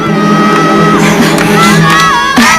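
High-pitched screams and shouts from several young girls in an Indonesian TV drama, loud and close, overlapping in a continuous, chaotic burst.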